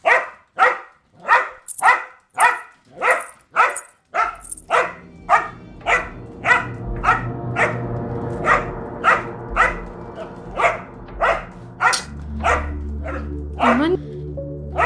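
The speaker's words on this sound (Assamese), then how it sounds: "ইমান কেলে ভুকিছে এইটোৱে?" A dog barks repeatedly in a steady, insistent rhythm, around twenty sharp barks close by and fairly loud, with a low hum rising in the background partway through.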